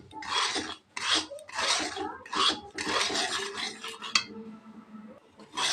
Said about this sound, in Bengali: সুজিটা প্রথমে ভেজে নিব।